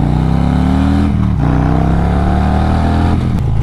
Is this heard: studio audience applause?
no